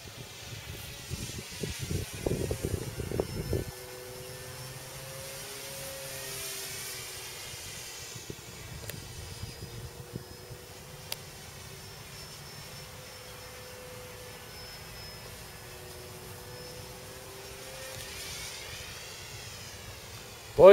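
An Airfield F6F radio-controlled model plane buzzes overhead with a steady electric whine that rises and falls as it passes, after a burst of wind noise at the start.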